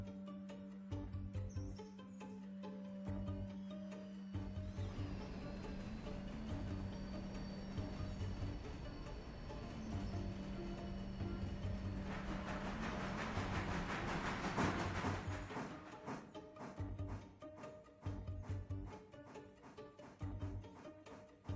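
A train runs on rails in a railway setting, steady rolling noise with rhythmic low clatter and tonal squeal building toward the middle, then easing off, moderately near.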